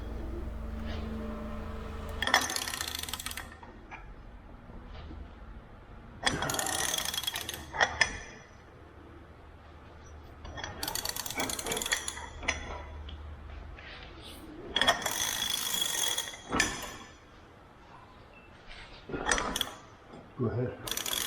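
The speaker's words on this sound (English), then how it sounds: "And then right now Keith is loosening up the lift cylinder" A ratchet works to loosen the lift cylinder on a tractor, giving several separate bursts of rapid clicking, each lasting a second or two, with quiet gaps and faint background sounds between them.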